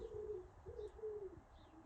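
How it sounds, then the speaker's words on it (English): Pigeon cooing outdoors, a few soft low coos in a faint repeating pattern against quiet background noise, heard at a distance with no talking. "And that's a pigeon that is out there."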